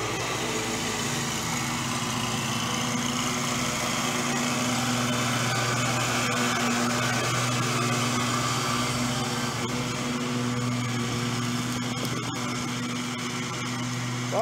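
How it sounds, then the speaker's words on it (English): A stand-up lawn mower runs steadily at a lawn care job, a continuous moderate engine drone with a high whine that stays even throughout and carries no speech. "Well, Ron, he certainly is slow on that mower."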